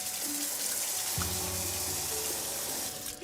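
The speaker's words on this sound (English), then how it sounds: "What I'm going to do is just rinse it off" Tap water running steadily to rinse soap off groceries, a continuous close splashing hiss with a brief shift in tone partway through as items pass under the stream.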